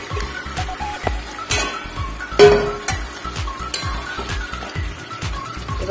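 Fish pieces sautéing with spices in a pan, a soft continuous sizzle broken by a steady rhythm of scraping stirs and a few sharper clinks of the utensil, close and alone.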